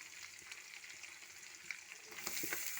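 Green chillies and onion pieces frying in hot oil for a tomato and dried fish curry, a steady soft sizzle throughout that swells louder near the end, with faint occasional ladle taps.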